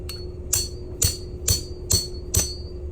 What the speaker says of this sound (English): now hitting this with a hammer is very noisy.